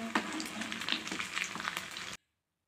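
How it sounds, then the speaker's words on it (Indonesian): Tiny flour-battered anchovies deep-frying in hot oil give a dense, steady sizzle with crackling pops, close and loud, running continuously for about two seconds before cutting to silence. "kita goreng kita goreng sampai kecoklatan seperti ini"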